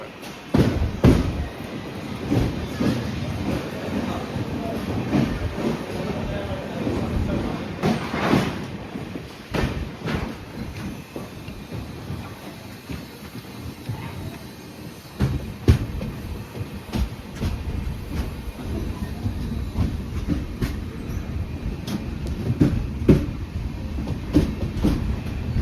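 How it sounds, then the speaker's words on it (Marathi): An Indian Railways train rolls on after leaving Sangameshwar Road station on the Konkan route, a continuous loud rumble with repeated clickety-clack wheel beats and occasional sharp knocks throughout, without talking. "हिला संगमेश्वर रोड स्टेशन थांबली होती 10 मिनटं आणि आता निघाली."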